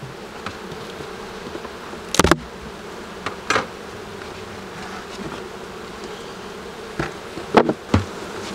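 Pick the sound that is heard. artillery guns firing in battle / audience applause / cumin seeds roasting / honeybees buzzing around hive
honeybees buzzing around hive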